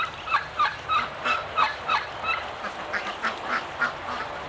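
Free-ranging ducks and other fowl give a rapid run of about a dozen gobbling, quacking calls in a steady rhythm, moderately near with no talking.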